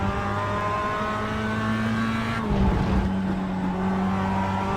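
Engine note of a Mazda race car lapping Laguna Seca in iRacing, a steady high-pitched drone that dips briefly mid-clip as it slows for a corner, then holds on again, loud and close with no talking.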